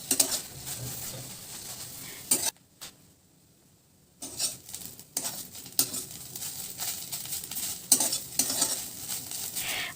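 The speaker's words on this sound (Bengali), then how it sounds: "বাটাটা আরেকটু ভাজা করলেই বাটাটা আমাদের পরিবেশন করার জন্য একেবারে রেডি হয়ে যাবে" Bottle gourd peel paste fries in a pan while a spoon stirs it. The busy sizzle comes with scraping and clinking strokes and stops briefly partway through, with no voices.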